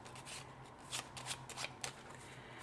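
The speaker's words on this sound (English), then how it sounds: "We'll give our intuition cards a quick little shuffle." A deck of intuition cards being shuffled by hand during a card reading, soft riffling and sliding with a few sharper card flicks, close and quiet, no voices.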